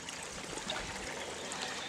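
Water sloshing and swirling steadily in a gold pan as gravel is panned with circular and side-to-side motions, a close, continuous watery wash with small splashes and no talk.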